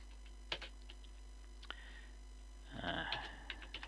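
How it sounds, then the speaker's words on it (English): Computer keyboard being typed on during a livestream, a few sparse, soft key clicks and then a brief flurry of quicker taps, faint and close, over a steady low hum. "I'm just going to type hello, testing the chat."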